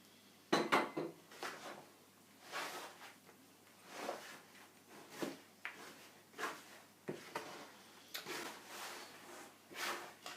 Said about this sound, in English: so you're just mixing it to the right consistency